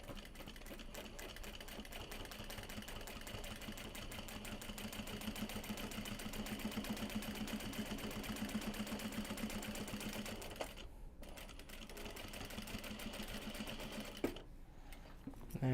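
A sewing machine stitches bags from upcycled obi and kimono fabric in a fast, steady mechanical chatter that runs for about ten seconds, then slows into a few short hand-cranked stitches with brief pauses between.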